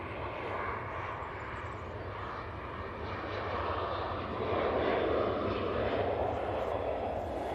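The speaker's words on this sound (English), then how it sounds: "And this is off to Tenerife. It's 737-800." A Jet2 Boeing 737-800 airliner with split scimitar winglets takes off at Manchester Airport bound for Tenerife, its engines a steady, loud broadband roar that swells toward the end.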